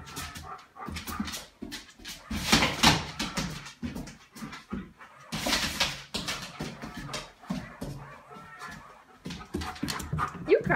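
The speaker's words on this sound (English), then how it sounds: "trying to catch a crazy dog." An excitable, energetic dog pants hard and whimpers in bursts, close up, amid scuffling movement and rustling noise, with faint voices now and then.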